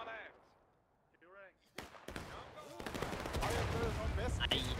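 Scattered musket shots grow into a sustained, dense volley of rifle fire in the Civil War game War of Rights, a few faint calls audible beforehand, then loud, continuous crackling gunfire with many overlapping reports.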